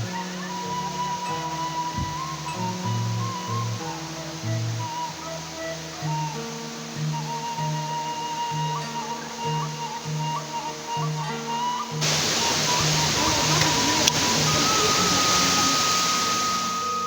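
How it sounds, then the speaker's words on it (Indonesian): Water of the Curug Ciangin waterfall pours into its pool. A steady broadband rush swells in loudly near the end, while tonal background music plays throughout. "Dan kolam air terjun ini teman-teman"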